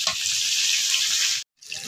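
Chili, onion and garlic fry in oil in a village kitchen, a steady bright sizzle that cuts out briefly near the end and then resumes.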